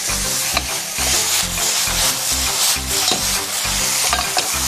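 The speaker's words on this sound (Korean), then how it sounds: "소고기가 겉면이 익을 때까지 볶아주셔야 돼요" Beef stir-fried in a pan as part of a healthy cabbage and brown rice roll dish, with loud steady sizzling and rhythmic scraping stir strokes throughout, no talking.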